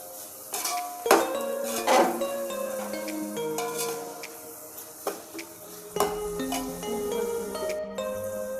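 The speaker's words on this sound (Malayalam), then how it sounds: "കുറച്ച് തക്കാളി കേട്ടോ. ഇതൊന്ന് വഴറ്റിയെടുക്കുക." Onion, green chili and tomato being stirred and sautéed in a pan for biryani, with repeated metal-on-pan scrapes and clinks of a utensil over a faint sizzle, close and moderately loud.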